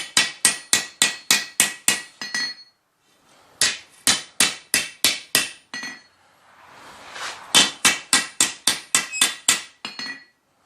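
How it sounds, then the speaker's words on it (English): Rapid, ringing metallic hammer strikes on hot steel at a forge, straightening a kukri blade, fall in quick rhythmic bursts, pausing briefly between volleys, sharp and close. "I'm going to go ahead and take the flat side of my hammer"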